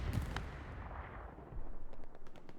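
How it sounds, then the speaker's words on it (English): Explosion and gunfire in a multiplayer match of the World War II shooter Hell Let Loose on the Omaha Beach map: a loud opening blast fading into a rumbling battlefield, with sharp repeated shots toward the end. "explosion"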